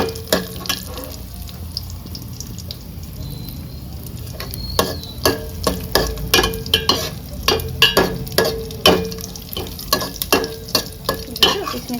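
Whole spices (cloves, cinnamon, cardamom, bay leaf, dried chilli, cumin) fry with potatoes in a hot pan, a steady sizzle broken by repeated sharp scraping clicks of a stirring spoon, close and clear, no talk.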